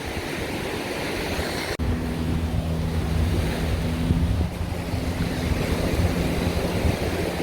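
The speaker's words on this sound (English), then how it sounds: "The sea is so strong." Strong sea waves roll and crash continuously at Aonang Beach in Thailand, with heavy wind buffeting the microphone and a faint low motor hum underneath.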